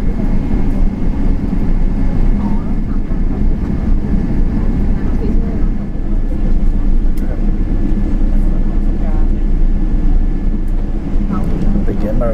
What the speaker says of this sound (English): Comes up with Thai Airways Boeing 777. Looks like another aircraft taking off at the same time.